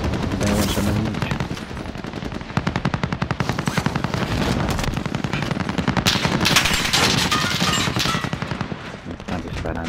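Rapid automatic gunfire aimed at the player rattles on without a break, dense overlapping bursts of shots sounding loud and close for the whole stretch.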